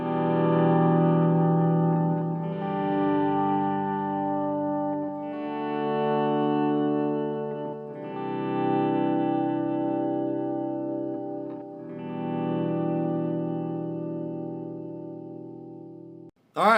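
A guitar played through a modded Line 6 M5 effects pedal sustains thick, chorus-like chords with distortion and echo, ringing on without pauses.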